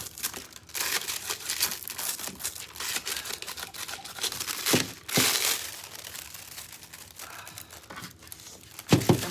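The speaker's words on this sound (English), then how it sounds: "I'm sticking my fingers through foil right now" Fingers poke through aluminium foil pressed onto adhesive on a birdhouse, making close, irregular bursts of crinkling and crumpling with short quiet gaps between them.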